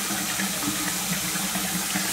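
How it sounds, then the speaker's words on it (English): A faucet runs steadily, hot water flowing out before the cold comes through. The stream is a continuous, close, full-bodied splash and hiss into a sink, with no voices. "Takes this faucet a while to run the hot water out."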